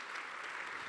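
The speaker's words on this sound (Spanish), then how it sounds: "Dale un aplauso al Señor por esa verdad." A church congregation applauds, a soft, even wash of many clapping hands heard from a distance, brief and continuous without any speech.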